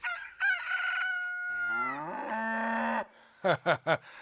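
Several cows moo in long, drawn-out calls on a farm in an animated cartoon, followed by a rooster's quick repeated crowing notes at the end.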